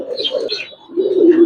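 Giribaz pigeons in a loft give soft, close cooing calls in short warbling bursts, with a fuller coo rising at the end.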